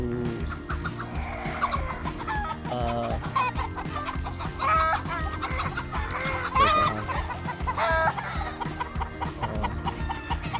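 Chickens cluck and chatter steadily at a gamefowl farm of Sweater and Kelso crosses, several birds close by with a busy layered barnyard murmur, occasional louder calls and a faint crow.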